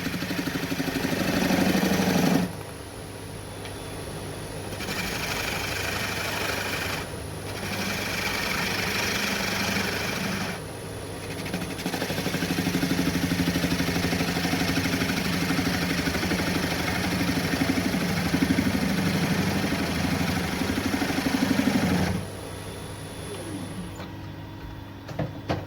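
A wood lathe spins a bowl while a tool cuts a concave into it, giving a steady close machine drone with broadband cutting noise that drops out briefly in a few short pauses between passes.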